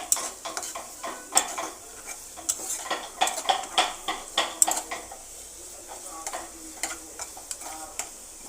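Onions fry in oil for a pulao beresta topping, a steady sizzle under repeated metallic scrapes and clinks of a spatula stirring in the pan, close and moderately loud.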